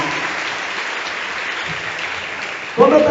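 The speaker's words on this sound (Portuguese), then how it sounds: "Uma salva de palmas para Jesus." Audience applause at a Portuguese-language missionary's testimony, a steady wash of clapping that fills the whole stretch, with a voice starting to speak over it at the very end.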